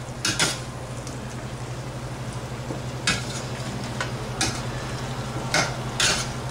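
Turmeric- and salt-marinated shrimp sautéing with a squash curry mixture in a pan: a steady broadband sizzle runs throughout, broken by several sharp utensil scrapes and stirring clatters, close and fairly loud, with no talking.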